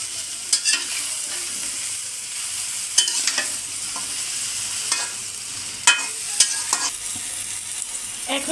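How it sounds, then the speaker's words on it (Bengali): Cauliflower being sautéed in spices in a pan, with a continuous low sizzle broken by periodic scraping stirs of a spoon against the pan, moderately quiet and near. "এইগুলো হচ্ছে খুব ভালো করে কিন্তু আগে মশলার মধ্যে কষিয়ে নেব"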